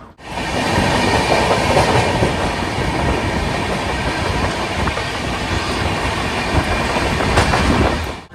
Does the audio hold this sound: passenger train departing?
yes